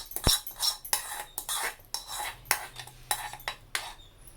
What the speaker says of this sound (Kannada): ಈಗ ಒಗ್ಗರಣೆ ಹಾಕಿ ಚೆನ್ನಾಗಿ ಕಲಿಸ್ಕೊಂಡ್ರೆ ಆಯಿತು